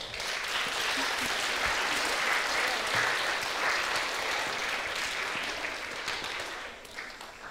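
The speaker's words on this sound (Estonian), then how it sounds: "Teeme aplaus näitlejatele!" An audience applauds the actors after a forum theatre scene at a youth mental health event, steady sustained clapping from a crowd at moderate distance, even in level throughout.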